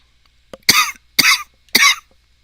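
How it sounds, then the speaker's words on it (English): Three sharp, close coughs in quick succession, each a harsh burst from a man recovering from the flu, heard alone in a quiet room. "I apologize for the cough."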